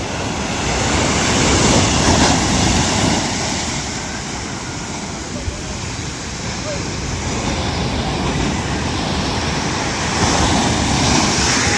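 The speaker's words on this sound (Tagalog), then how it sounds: "Simula na ng tag-alon." Big ocean waves surge and crash continuously as a boat rides rough seas at the start of a high-wave season, a loud, dense roar with wind, no clear gaps between swells.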